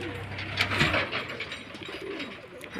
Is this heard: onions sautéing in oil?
no